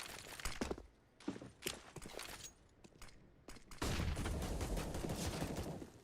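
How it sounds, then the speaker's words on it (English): Suppressing gunfire in a competitive shooter video game match, rapid bursts of shots and impacts with a denser, sustained barrage in the second half, with no commentary over it. "Zipex, some suppressing shots, but short is taken"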